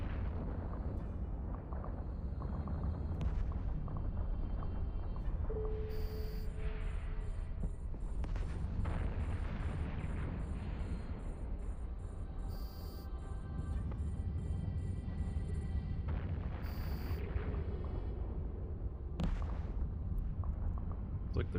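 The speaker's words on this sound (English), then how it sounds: "Looks like they're shooting at a couple different things here" Ship weapons firing in EVE Online during combat at a Sansha prison camp, a steady low rumbling barrage of booms and bursts with periodic high electronic beeps and tones layered over the dense, continuous battle roar.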